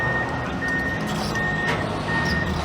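A Komatsu wheel loader backs up at the Bauma trade fair, its reversing alarm repeating steady, evenly spaced beeps over a continuous engine rumble.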